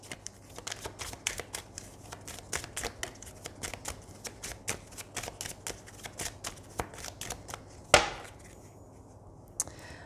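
Tarot cards shuffled and drawn by hand in a quiet room, a steady run of crisp riffling taps and slaps close by, with a sharper card snap near the end.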